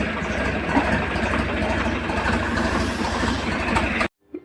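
A tractor engine idles in a village setting before hitching to a sugarcane trolley, a steady close diesel rumble that cuts off abruptly near the end.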